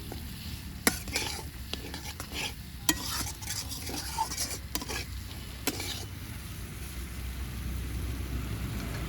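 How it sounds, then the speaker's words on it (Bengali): Fried potatoes are stirred into a cooked spice paste for a pabda fish curry, giving repeated scraping and clinking of a spoon in the pan over a continuous close sizzle, with no voices. "এবার দিয়ে দেবো ভেজে রাখা আলু আলু দিয়েও এক মিনিট মতো একটু নাড়াচাড়া করে নেব"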